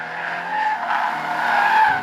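A Toyota 86 sports car driven hard into oversteer, tires skidding and squealing loudly and continuously, with engine noise beneath.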